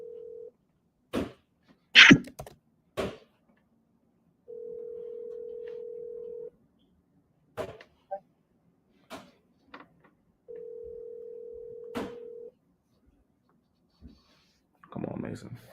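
An outgoing phone call rings back in two long steady tones separated by clicks and short bursts of noise, fairly close, as someone waits for a real estate agent's line to connect.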